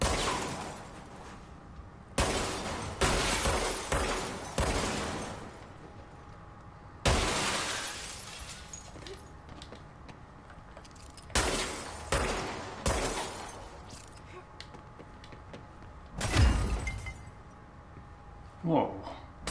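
Glass shatters under gunfire in the video game Control, with several loud bursts of crashing and breaking that each fade out, separated by quieter stretches across about twenty seconds.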